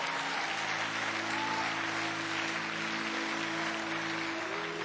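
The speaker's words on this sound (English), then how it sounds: "Clap anyhow, right where you're sitting." Audience applause at a sermon on the nature of women, a steady wash of many hands clapping throughout, fairly distant and even, with a faint sustained tone underneath.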